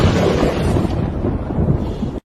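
Loud, continuous rumbling thunder from a horror film, a sustained low roll that swells and churns for about two seconds before cutting off abruptly, with no voices over it.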